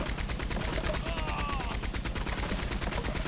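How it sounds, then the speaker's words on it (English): Rapid bursts of gunfire from the Red Dead Redemption 2 video game, steady repeated shots running through the whole stretch at loud, even level with game effects layered in. "Shooting."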